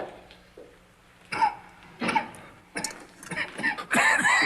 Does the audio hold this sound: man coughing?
yes